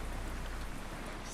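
Rain in the video game Zenless Zone Zero, a steady, even hiss of falling drops on surfaces with no voices, heard alone for a brief moment.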